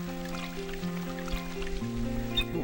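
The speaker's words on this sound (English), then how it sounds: "Ooh, running water. Nice little sound effect there." Running water trickling steadily in the village of Norune in Dark Cloud, a soft continuous flow layered under sustained tonal game music, with no voices.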